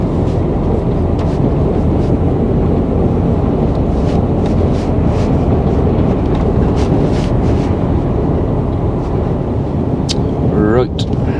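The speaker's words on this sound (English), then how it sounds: "Because it is proper windy out there." Strong wind roars steadily against the microphone throughout, a dense low rumble with no pauses, joined by a brief whistling tone near the end.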